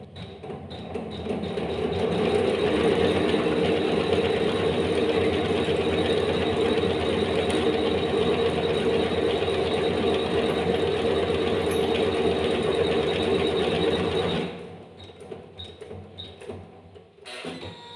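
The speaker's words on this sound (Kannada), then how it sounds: "ಸ್ಟಾರ್ಟ್ ಕೊಟ್ಟರೆ ಮತ್ತೆ ಇದು ಸ್ಟಾರ್ಟ್ ಆಗುತ್ತೆ." A computer embroidery machine stitches with a steady, loud mechanical whirring and clatter that runs continuously, then stops abruptly near the end, leaving only faint quiet handling sounds.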